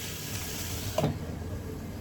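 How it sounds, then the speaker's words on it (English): Ground pork being scrambled and cooked in a pan, a steady soft sizzle with a brief scraping stir in the middle, faint and close. "Here I'm just gonna scramble this around and cook it"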